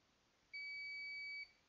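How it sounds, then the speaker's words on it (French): A single steady electronic beep from a continuity test during iPhone 6S motherboard repair sounds for about a second in a quiet room, clean and high-pitched, then stops. "Normalement, ça doit biper."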